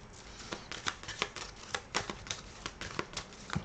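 Tarot cards snap and rustle as one is drawn from the deck, a close run of quick crisp papery flicks and taps repeating at an irregular pace with no voice over them.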